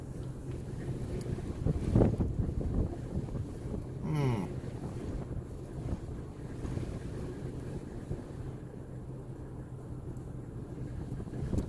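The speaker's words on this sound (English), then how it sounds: "wind is really whipping here too right now" Strong wind buffets the microphone outdoors, a steady rumbling roar with gusts rising and falling for the whole stretch, with no one talking over it.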